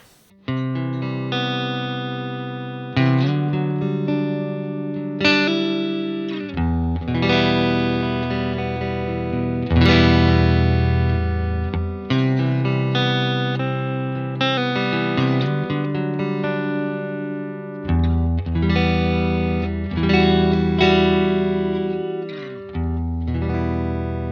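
Electric guitar played through a UAFX Dream '65 Reverb amp pedal, a sequence of strummed chords and picked notes each ringing out with lush reverb tails, loud and alone with no voices.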